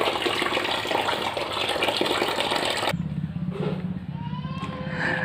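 Running water gushes steadily while cincau leaves are washed by hand, then cuts to quieter splashing and trickling in a basin.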